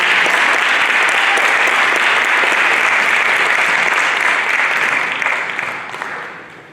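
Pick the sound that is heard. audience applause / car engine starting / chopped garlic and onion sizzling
audience applause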